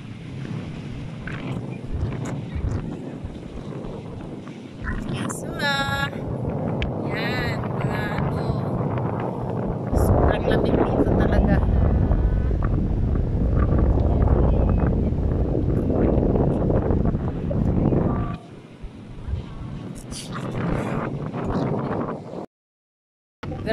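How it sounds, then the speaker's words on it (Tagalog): Gusty wind roars steadily against the microphone for a long stretch outdoors in Kuwait, with scattered Tagalog voices in the first part before a brief drop-out near the end. "sobrang hangin talaga."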